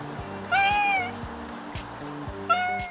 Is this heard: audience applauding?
no